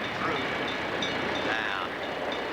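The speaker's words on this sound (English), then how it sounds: "a train is coming through" A train rolls through the downtown Lawrenceville depot, giving a steady, loud, continuous rumble and rush with wind noise across the microphone throughout.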